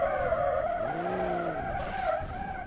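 A school bus drifts through city streets in BeamNG.drive, its rear-wheel-drive tires squealing in a sustained, wavering screech over a low engine drone, close and steady with no talking.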